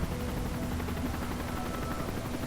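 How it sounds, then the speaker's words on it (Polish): A helicopter in the video game Call of Duty: Modern Warfare 3 drones with a steady, throbbing rotor hum at moderate distance, holding constant throughout the short stretch. "Aha, dobra, widzę helikopter."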